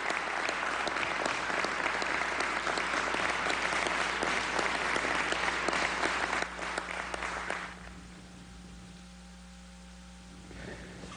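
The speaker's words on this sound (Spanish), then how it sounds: "Yo pido un aplauso para nuestra Fuerza Armada Nacional Bolivariana." A crowd gives sustained, loud applause for the Bolivarian National Armed Forces, then it drops away abruptly around the eight-second mark, leaving only faint background noise and a steady hum.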